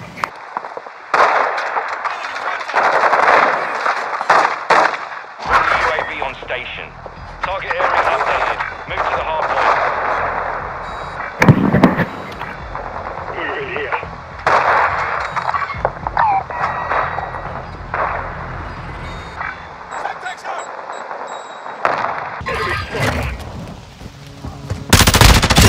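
Rapid bursts of automatic gunfire and explosions in the video game Call of Duty: Modern Warfare II, loud and repeated across the scene, with players shouting and talking over the shooting.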